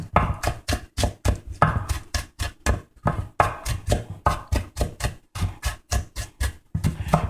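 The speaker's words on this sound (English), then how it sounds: "Now, we chop it down." A knife chops steak filling for a stuffed burrito on a board in rapid, steady strokes, dozens of crisp close thuds with only brief pauses between bursts.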